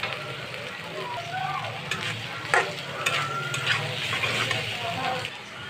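Vegetables and noodles stir-fry in a pan with fried egg and grated carrot, giving a steady sizzle broken by the scrape and clatter of stirring, close and moderately loud.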